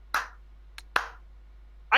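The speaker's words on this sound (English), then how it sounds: "clap for a good choice" A few sharp, isolated hand claps, close and crisp, spaced unevenly across a quiet background.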